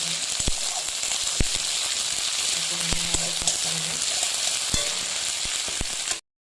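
Mushrooms frying in a pan with onion give a steady close sizzle and hiss throughout, broken by a few sharp ticks and crackles, with no talking.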